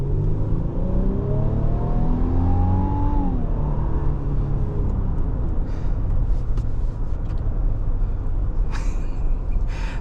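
A 2025 Infiniti QX80 Autograph accelerates under power from inside the cabin, a steady engine drone and rising whine with road rumble, loud and continuous, with a few brief clicks near the end.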